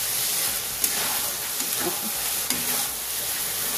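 Minced lote fish jhuri is stirred in a pan with no added water, giving a steady soft sizzle and hiss with occasional light scrapes of the spoon, fairly quiet and without talk.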